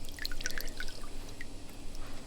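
Water slowly draining from an Intex pool, a light irregular dripping and trickling close by, with scattered small splashes over a soft continuous flow.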